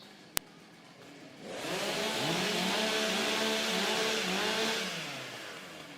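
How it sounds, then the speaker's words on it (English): Stihl chainsaws warm up at a women's timbersports championship, a sharp click followed by an engine that swells into a loud, sustained revving drone and then eases off, heard from a moderate distance. "Okay, ladies, warm up your saws."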